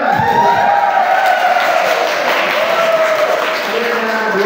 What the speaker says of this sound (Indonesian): silakan tepuk tangan, Pak